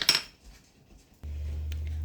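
Glass canning jars clink and knock together while salt is spooned in for pressure-canning new potatoes, one bright clatter at the start, then quiet handling before a steady low hum sets in.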